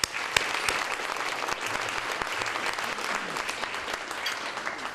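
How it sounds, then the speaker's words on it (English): An indoor audience claps steadily, with dense sustained applause and a few sharper individual claps standing out, loud and close, with no voices over it. "Let's give them a round of applause."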